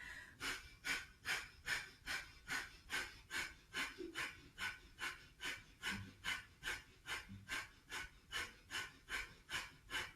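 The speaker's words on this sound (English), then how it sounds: "you can start your breathing technique" Rhythmic yogic breathing during a manipura-focused class, with about twenty sharp, evenly spaced forceful exhalations in a steady pumping pattern, close and clear with no talk.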